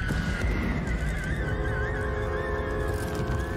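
A horse in the film Nope lets out a long, loud, wavering neigh that carries on through the whole moment, with no one talking over it.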